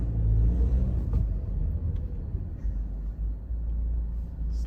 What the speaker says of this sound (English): Car seems to be running fine.